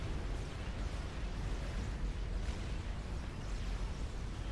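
A large section of a player's base blows up in the strategy game Supreme Commander: Forged Alliance, a dense, continuous rumbling roar of explosions that stays loud throughout with no pauses.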